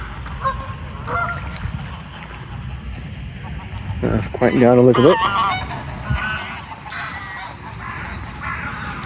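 Geese honk loudly at a busy seaside bird spot in Cleethorpes, a burst of harsh repeated calls mid-clip over constant outdoor bird noise and wind, with people talking nearby.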